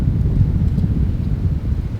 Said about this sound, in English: We have a pretty steady 15-mile-an-hour wind with gusts